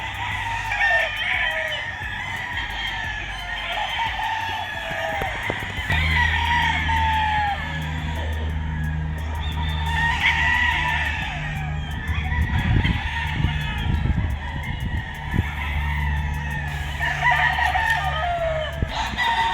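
Roosters and chickens on a gamefowl farm raising white Kelso birds: repeated crowing from several birds, some near and some farther off, with clucking and a low steady hum underneath, no talking.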